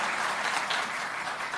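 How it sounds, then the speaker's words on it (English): An audience at an African urban forests forum applauds steadily and fairly loudly, a dense continuous wash of many hands clapping with no break. "Another round of applause"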